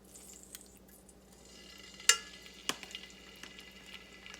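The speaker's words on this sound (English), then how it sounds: "You hear that sizzle." Quiet, crackling sizzle from beef tips searing in a hot pan, with a couple of sharp pops and clinks standing out over the soft frying hiss.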